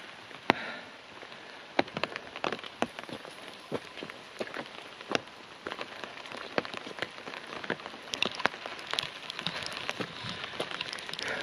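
Light rain patters steadily on a nearby surface on a hiking trail, with scattered sharper drops tapping irregularly throughout; no talking.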